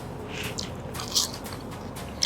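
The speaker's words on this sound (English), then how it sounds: "And of course the crunch. I love sweet potato fries." Crunchy sweet potato fries bitten close up, giving a few crisp crackling crunches over quiet background murmur, the sharpest bite landing near the middle.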